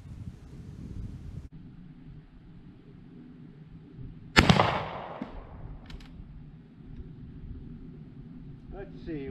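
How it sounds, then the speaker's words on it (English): A Winchester 1885 Low Wall rifle in 44-40 fires a single sharp, loud shot outdoors, with the report trailing off into wind noise and quiet talk around it. "We're just going to take a couple shots with it."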